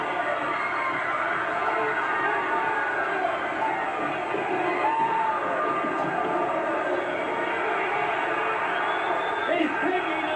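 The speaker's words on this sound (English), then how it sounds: "the people past the second row are all standing, applauding the smaller of the two men" Ringside wrestling crowd at a masked-wrestler bout, standing and cheering in a steady, dense roar of voices and applause, with a commentator talking over the noise throughout.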